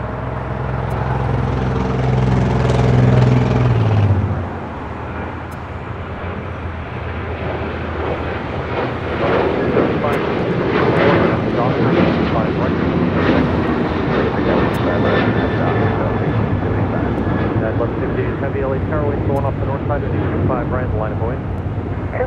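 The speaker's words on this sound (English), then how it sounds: "Next departure, heading to Chicago O'Hare, United Airlines, flight 2039." A United Airlines Boeing 737-900ER departs LAX for Chicago O'Hare, its jet engines a loud, broad roar that swells and holds steady throughout, with a low rumble opening the takeoff.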